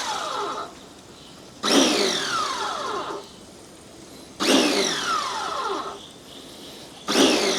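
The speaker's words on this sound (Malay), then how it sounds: "Kita akan tembak guna water jet" A high-pressure water jet fires in three loud bursts of broadband spray during a water wash test, each blast starting abruptly and cutting off, with quieter gaps of steady background hum between them.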